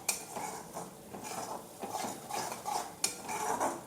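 Semolina roasting in ghee in a pan, stirred continuously, giving soft scraping and clinking of the spoon against the vessel with a faint sizzle underneath, close and fairly quiet.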